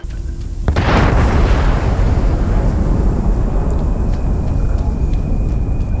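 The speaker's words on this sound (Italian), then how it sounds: "È questa l'esplosione?" Explosion in the video game Fallout 76, a sudden loud booming blast that erupts after a brief quiet moment and rolls on as a long, heavy rumble lasting several seconds.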